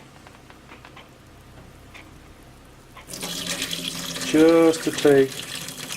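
Liquid drained off homestead fodder pours in a sudden splashing gush that runs on steadily, loud and close, with a brief spoken phrase under it.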